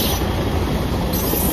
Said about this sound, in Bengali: একটা টয় ট্রেন ক্রস করলাম জাস্ট শুকনাতে ঢুকতেই।